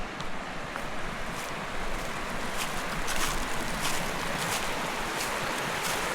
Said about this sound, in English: Here's Dingman's Creek